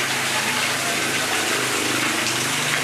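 Water gushing hard and steadily from a Grundfos pump at a water district station, a dense, loud, continuous rushing with no breaks.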